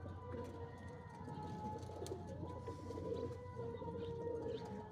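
Pigeons coo steadily and continuously inside a loft, with low droning coos layered over one another at close range and a constant background hum, with no talking.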